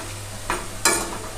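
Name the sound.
lentil fritters (dal bora) frying in oil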